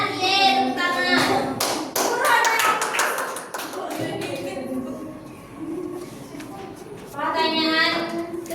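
A classroom of children claps hands in praise after a correct answer in a science lesson, a quick patter of many small claps mixed with excited kids' voices and a teacher talking.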